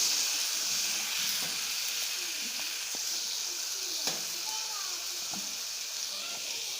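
Peeled, chopped tomatoes sizzle steadily in a frying pan for a potato and aubergine curry, a bright continuous hiss broken by faint scraping stirs and light clinks of the spoon.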